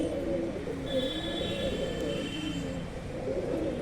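Pigeons kept for sale coo softly and continuously at a low, steady level, with faint background hum and a few distant chirps.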